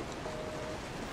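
Heavy rain in the video game Resident Evil 7 hisses as a steady, dense wash of noise with no distinct drops, continuous and even throughout, with no voices.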